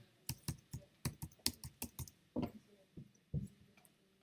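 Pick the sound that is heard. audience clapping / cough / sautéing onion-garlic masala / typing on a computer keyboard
typing on a computer keyboard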